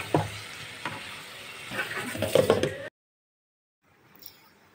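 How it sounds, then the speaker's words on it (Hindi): Kaddu sabzi, a pumpkin curry, is stirred in a pan: close scraping strokes over a low sizzle for about three seconds, then near silence with a faint rustle. "बीच बीच में हमको इसी तरह सब्जी को चला लेना है"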